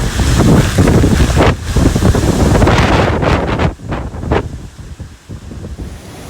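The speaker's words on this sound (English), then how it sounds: "This wind is really kicking up now." Strong hurricane wind from Hurricane Sally roars and buffets against the microphone in loud, continuous gusts, with rushing water churning underneath before it eases slightly near the end.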